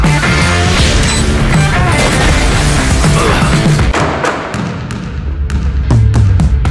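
A dart thrown in Valorant, a dense thudding impact under game noise, then a run of sharp separate taps and knocks toward the end, loud and close.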